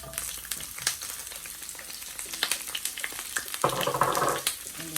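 Cabbage frying in coconut oil in a pan, a soft crackling sizzle with scattered pops and clatters, growing into a fuller hiss near the end, close and quiet with no voices.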